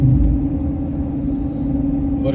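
Steady low rumble of a car cruising along a motorway, continuous road and engine noise throughout with no talk.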